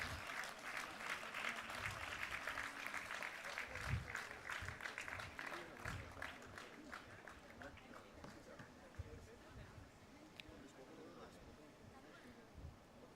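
Clapping from an audience at a plenary session of a conference, steady and fairly dense at first, then gradually thinning and fading toward the end, heard somewhat distant.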